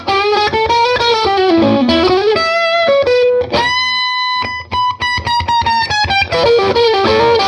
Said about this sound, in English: I'm using a King of Tone, which is pretty basic overdrive style overdrive, and a tiny bit of reverb.